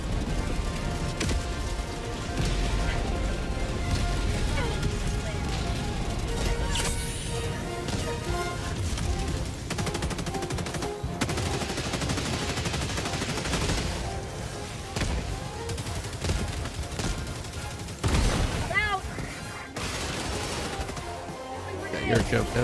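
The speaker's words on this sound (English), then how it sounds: "I'm clearing the area out with grenades." Grenade explosions and heavy gunfire in Helldivers 2, a dense, continuous barrage of booms and shots with talk over the din throughout.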